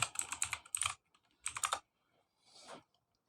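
Rapid bursts of keystrokes on a computer keyboard, two quick runs of clacking with short pauses between, then a softer smeared stroke, close and clear with no talking.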